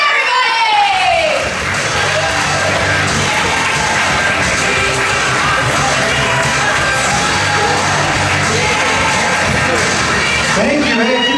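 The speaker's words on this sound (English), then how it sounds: "Clap it up right now, and keep clapping" A stand-up comedy club audience roars for comedian Joe Kilgallon, loud sustained clapping mixed with cheering and whoops, while a voice shouts over the crowd.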